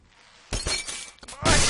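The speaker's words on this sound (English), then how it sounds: "Epic glass break." Glass shattering in the Happy Wheels physics game: a quiet lead-in, then a loud crashing burst, a brief dip and a second, louder smash of breaking glass.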